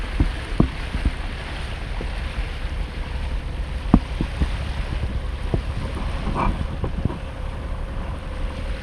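A sailboat's steady low engine drone runs beneath wind rumble and lapping water, with occasional knocks and clunks, motoring in windless conditions near Hartlepool.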